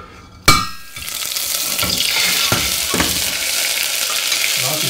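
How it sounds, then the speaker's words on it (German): Curry paste hits hot oil in a pot for a red lentil soup, setting off a sudden loud burst of sizzling. The hiss then settles into a steady, close frying roar with a few soft stirring knocks. "So, ich brate jetzt in dem heißen Öl"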